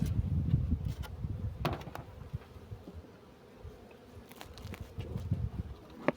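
A low, droning buzz of many honeybees hums steadily throughout at a hive in early March, swelling and fading slightly with a few soft thuds and rustles nearby.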